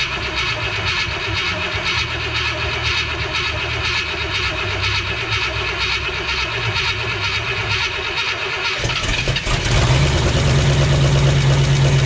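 The engine of a 1976 International Scout II Traveler, just fitted with a new ignition control module after sitting six months, idles with a steady mechanical drone, then roars louder near the end.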